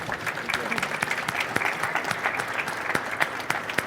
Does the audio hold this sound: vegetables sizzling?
no